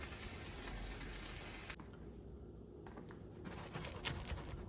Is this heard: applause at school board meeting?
no